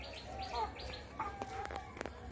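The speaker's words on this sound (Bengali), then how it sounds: "দেখো শালিক পাখি" Myna birds chirping outdoors near a chicken coop in a rural yard, a few short bright calls scattered over two seconds against faint background noise.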